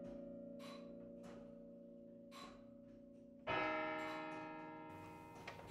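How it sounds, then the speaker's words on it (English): Church bells in a tower are rung by hand, with resonant strikes ringing out and decaying; a much louder, brighter stroke lands partway through and its long humming tail lingers alone to the end. "when I'm upstairs ringing or chiming the elecum, they think, oh, it's a mechanism doing it"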